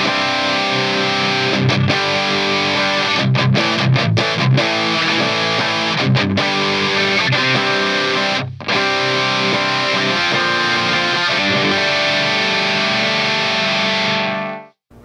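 An electric guitar played through a Digitech DF-7 Distortion Factory pedal on its TS9 setting rings out loud and sustained, with choppy strummed chords and brief pauses before a long held chord fades out.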